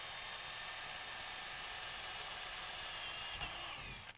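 A power drill bores a hole in a workshop, giving a steady, close whine with a hissing edge that continues for a few seconds and then winds down as the drill stops.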